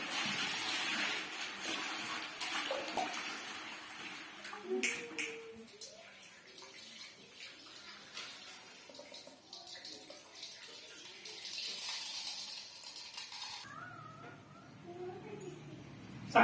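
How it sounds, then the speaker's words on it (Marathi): Rice seed being washed by hand in clean water during seed treatment on a Kolhapur farm, giving steady close sloshing and splashing with scattered drips and swirls, ending in a louder burst of water. "तळामध्ये राहिलेलं चांगलं बियाणे आम्ही आता स्वच्छपणाने 2 वेळा धुवून घेत आहे."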